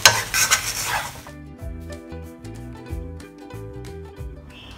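Fried chicken tossed and coated in a wok, a loud opening sizzle settling into steady metallic scraping and rhythmic clinks of a spatula against the pan, no voices.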